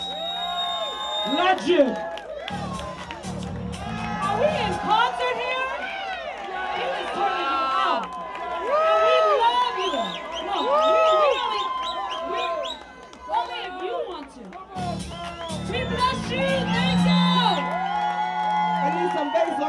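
A studio audience at a television show breaks into cheering, whoops and shouts, a lively crowd roar that swells and falls over music, with a voice speaking briefly.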